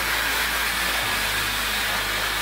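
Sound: Conair hot air round brush blow drying hair

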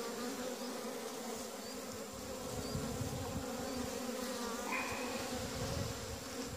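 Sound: honey bees buzzing during hive inspection

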